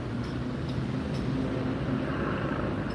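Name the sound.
flat hum of a vehicle muffler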